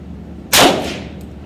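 A single sharp shot from a 1911 pistol, fired in a test of a failure to eject the spent shell, cracks loudly against a quiet background and decays quickly.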